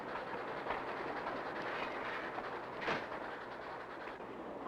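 A train travels high in snowy mountains, its steady rumbling roar continuous and fairly close. Faint rhythmic clacks and a brief swell in loudness near the end mark the passage.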